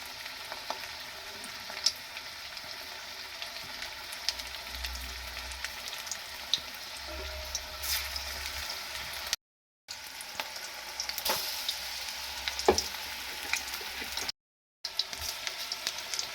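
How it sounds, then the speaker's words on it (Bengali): Onion fritters (peyaji) deep-frying in hot oil in a wok over a high-to-medium gas flame, a continuous bubbling sizzle with occasional crackles and faint stirring clinks throughout. "পেঁয়াজিগুলো ভেজে নেব।"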